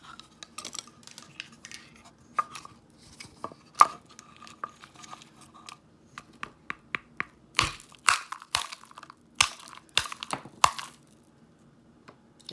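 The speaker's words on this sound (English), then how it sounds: "And I use this mortar and pestle all the time to crush up" Dried black limes crushed in a mortar and pestle, with sharp cracking crunches and grinding knocks, sparse and irregular at first and then a burst of loud rhythmic pounding near the end, close up with no voices.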